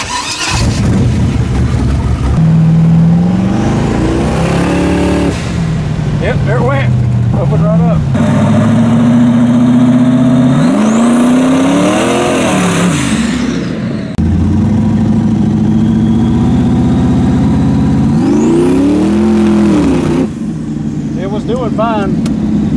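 Twin turbo Chevrolet S10 engine revving hard and breaking up, the loud rising and falling revs stuttering and misfiring across repeated pulls, close and continuous with voices speaking over it.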